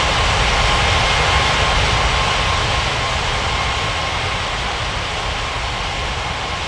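A fixed-wing airliner comes in to land in the iOS air traffic control game Unmatched Air Traffic Control, its engines giving a steady, loud roar with a broad jet rumble that runs unbroken and close throughout.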